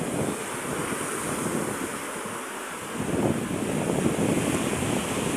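Sea waves wash in with a steady roar under heavy wind buffeting the microphone, swelling louder partway through, with no voices.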